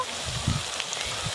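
Onion, garlic and ginger paste frying in a pan for a mutton dish, a soft steady sizzle with faint crackles and a small stir-like bump partway through.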